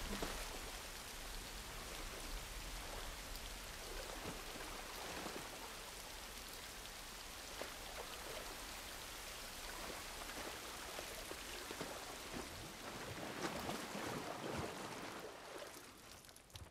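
Steady rain falls in The Last of Us Part 1, a constant dense patter of drops on surfaces, faint and unbroken, with no talking.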